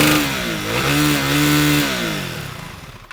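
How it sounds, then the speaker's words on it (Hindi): A 2024 KTM 390 Duke motorcycle revs close by, its loud single-cylinder exhaust rising and holding a throaty note before dropping back and fading toward idle. "मैं आपको इसकी एग्जॉस्ट नोट की आवाज़ सुनाना चाहता था"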